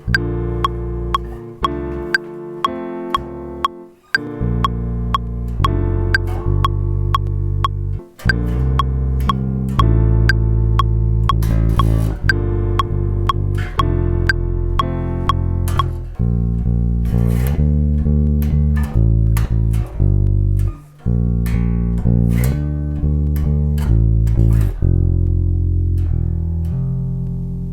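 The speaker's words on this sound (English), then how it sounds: "But now I kind of want to mess around on this bass." A bass guitar plays a continuous line of plucked, sustained notes with short gaps between phrases, loud and close with no voices.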